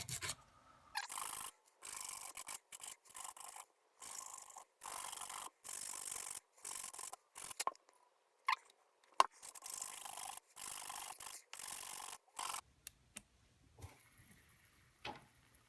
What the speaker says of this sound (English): And you just file the button's just a little bit smaller.